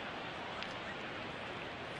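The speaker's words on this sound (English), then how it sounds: "The rain continues to fall." Rain falls steadily on a ballpark during a Mets at Phillies baseball game in April 2013, a faint, even hiss of drops with no distinct voices above it.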